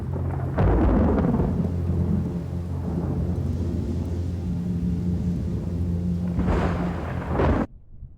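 A night thunderstorm rumbles over a fox den, with deep rolling thunder swelling loudly at the start and again near the end over a constant wash of rain.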